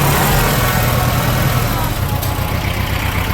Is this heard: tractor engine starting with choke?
yes